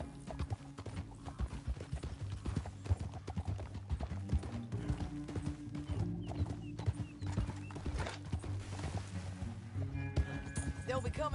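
Hooves clop in a fast galloping rhythm as a horse runs in Red Dead Redemption 2. Game voices and ambience run underneath.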